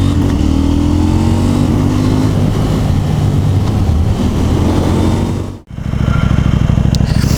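A KTM 790 motorcycle engine runs steadily and loudly up close, a constant rumbling drone that drops out briefly near the end before returning with a choppy idling pulse.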